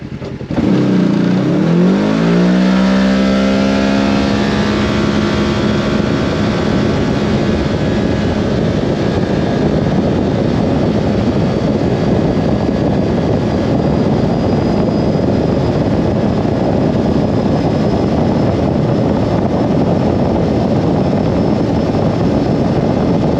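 Kawasaki KRX 1000 UTV fitted with JBS clutch weights, a DynoJet tune, a Badass belt and 35-inch tires, launching hard on a test run; the engine note climbs quickly, then holds a loud, steady drone under wind noise, with no talking.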